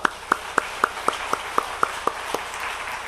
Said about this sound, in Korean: 여기까지 일하신 우리 하나님께 영광의 박수 올려드립니다.